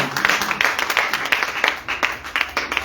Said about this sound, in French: Recevez cela avec les acclamations.